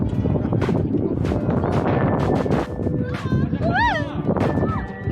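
Strong wind blows across a steep outdoor stairway, a steady rumbling roar buffeting the microphone throughout while a person talks and exclaims over it.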